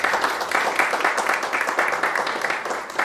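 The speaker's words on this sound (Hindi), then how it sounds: "please एक बार उनके लिए ताली बजाएं।" Dense, steady applause from an audience at a press conference for a web series launch, continuous clapping filling the whole stretch at an even loudness with no talk on top.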